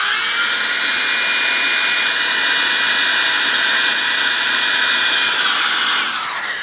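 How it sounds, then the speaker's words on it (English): A hairdryer drying the freshly cleaned head of a mid-1990s Matsui VX1106 video recorder, a loud, steady high-pitched whine and rush of air running continuously, then dropping off as it switches down at the end. "Hairdryer."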